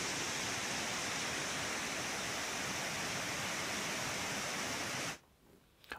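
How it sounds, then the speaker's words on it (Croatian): Floodwater torrents roar through flooded streets in Čitluk, southern Bosnia and Herzegovina, after heavy rainfall, a dense, loud, unbroken rushing wash that cuts off abruptly near the end, leaving only faint background. "Velike količine padavina potopile su ulice i uzrokovale bujice."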